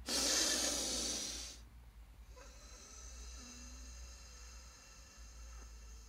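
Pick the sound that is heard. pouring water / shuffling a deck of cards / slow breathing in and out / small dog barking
slow breathing in and out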